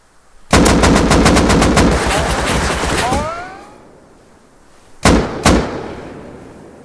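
Loud, close automatic gunfire from the game Rust: a rapid burst of about a dozen shots, then a fading echo, and after a short pause two more single shots.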